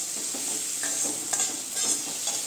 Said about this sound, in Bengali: এখন ডিম আর বেগুন ভাজা করে নিব